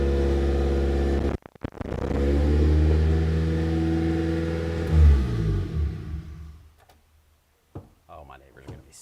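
A car engine revs up and drops repeatedly as it is run through its gears, loud and close, with strong rising and falling tones, a sharp clunk early on and a quiet stretch near the end.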